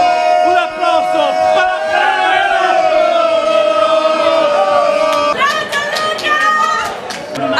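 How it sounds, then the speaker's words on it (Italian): A crowd at the 2013 Notte Bianca night festival in Lercara Friddi cheers and shouts in a loud, sustained roar, with sharper bursts of clapping breaking through toward the end. "Un applauso."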